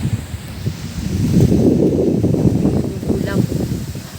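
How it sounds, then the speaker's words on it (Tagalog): Wind from approaching Typhoon Uwan gusts outside a house in Cavite. It is a close, rough rumbling roar that swells and holds, with microphone buffeting and faint background sounds. "Dito ang hangin galing."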